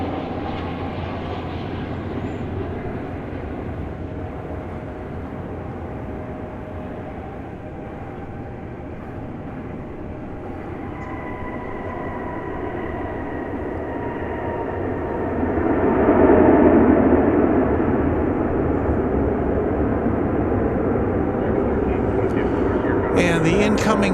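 A Martinair jet takes off at DFW Airport, its engine roar rumbling steadily and then swelling louder about two-thirds through before settling into a sustained, strong drone.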